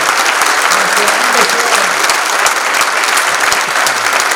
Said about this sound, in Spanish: Fuerte aplauso para el profesor Fernando Sierra